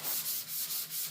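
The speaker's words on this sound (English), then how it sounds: "Cutting it back, light sanding back, remove any dust particles" Steady back-and-forth light sanding of a sealed finish on wooden furniture, a soft hiss in even strokes, close up with no voices.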